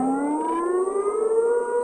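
The Siren Head creature in an Android horror game gives a siren-like wail that rises slowly in pitch, loud and sustained, with a droning tone and no voices.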